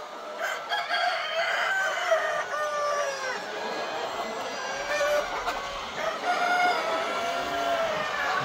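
Classic hybrid laying hens, around 110 to 115 days old and just starting to lay, cluck and call continuously on a commercial poultry farm, a dense overlapping chorus of many birds at close range.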